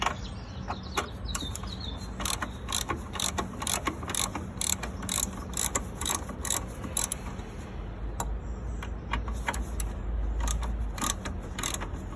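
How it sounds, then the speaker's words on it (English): A ratchet turns a bolt out of the engine mount on a 1.4 Vauxhall Corsa D, giving a close, steady run of rapid metallic clicks that continues the whole way through with no talking. "I'm going to use the ratchet to do the rest."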